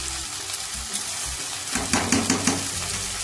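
Soaked rice frying on a high gas flame in a pan, a bright continuous sizzle with a burst of louder scraping stirs toward the end, close and with no talking.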